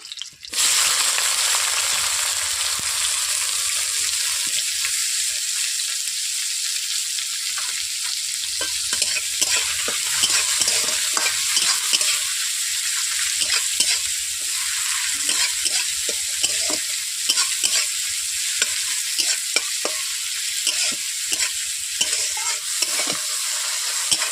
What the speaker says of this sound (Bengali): এরপর দিয়ে দিচ্ছি পেঁয়াজ কুচি, টমেটো কুচি,